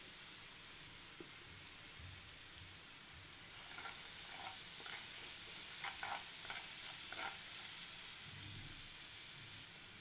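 Grated cucumber in oil with a pinch of asafoetida sizzles softly over low heat, and a few scattered crackles and stirring ticks rise midway.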